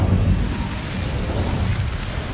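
A fiery Incendio spell burst in Hogwarts Legacy on PS5 roars loud and close as a continuous rushing, explosive whoosh with no voices.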